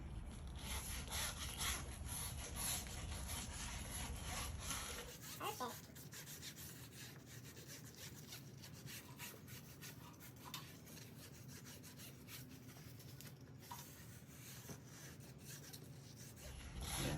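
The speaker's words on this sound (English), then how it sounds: "You really got rid of some of the deeper scratches just by doing the sanding that you just did" Steady abrasive rubbing of sandpaper on a curb-rashed metal wheel rim, continuous and close, shifting to a lighter, thinner scraping partway through.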